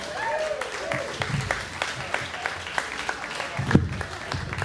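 Comedy-club audience applauding comedian Joel Huitt at a storytelling-themed show, steady clapping at moderate level running throughout, with scattered louder claps and a host's voice talking over it.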